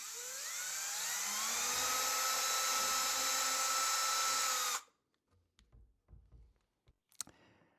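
A power drill runs for about five seconds, whining up in pitch while boring partway into a deer trophy mount, then stops abruptly, followed by scattered handling clicks and knocks.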